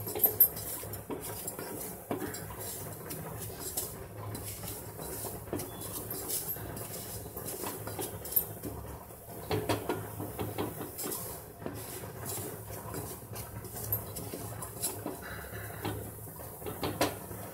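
A utensil stirs roasting flour in a pan for white sauce pasta, giving a steady run of light scraping and clinking taps, fairly quiet and close, with no voices.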